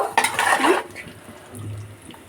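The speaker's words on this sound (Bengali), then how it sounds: "এবার চিকেনটা দিয়ে মশলাটার সাথে নেড়ে চেড়ে চিকেনটাকে ভালো করে কষিয়ে নেব।" Chicken pieces stirred and fried with spice masala in a metal pot for an Eid chicken biryani: a short burst of scraping and clattering against the pot, then a quieter simmer.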